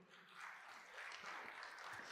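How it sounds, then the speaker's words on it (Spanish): A church congregation gives applause to the Lord during a Spanish-language sermon on prayer, heard as a faint, distant, even wash of clapping that swells slightly after the first half-second and then holds. "Un aplauso al Señor."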